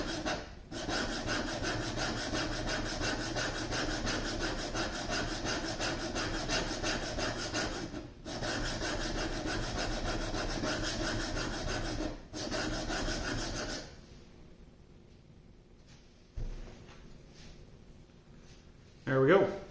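A hand plane blade is honed on its bevel in steady, continuous rasping strokes with only brief breaks, then the scraping stops and the room goes quieter.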